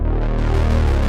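Synth pluck preset with its filter envelope reduced, giving a smoother, less percussive sustained tone over a steady low bass, loud and continuous with no talking.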